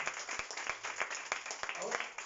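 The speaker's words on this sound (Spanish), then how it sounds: "Dale un aplauso, viejo." A church congregation claps during a Spanish-language sermon, with scattered sharp hand claps forming uneven applause under an ongoing voice.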